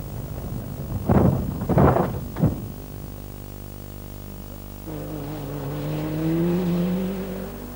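Rally car on an RAC rally stage, heard from the in-car camera: a few loud engine bursts early, a quieter idle-like stretch, then a rising engine whine as it pulls away, close and without talk.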